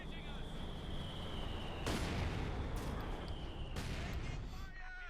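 Mortar fire in a Company of Heroes 2 one-versus-one match, with two heavy booming impacts rolling out over a dense battle din, under a steady high tone and faint commentary.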